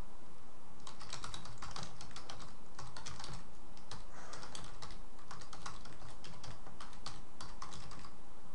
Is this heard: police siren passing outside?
no